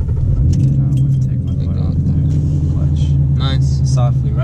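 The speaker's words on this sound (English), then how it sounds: "I'm going to start the car" A manual-transmission car's engine turns over and settles into a low, steady idle rumble close up, with light jangling and clicks from the cabin and people talking over it.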